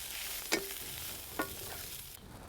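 Leafy vegetable greens cooking down in a pan, a faint steady sizzle with two brief clinks of a spoon against the pan, no voices.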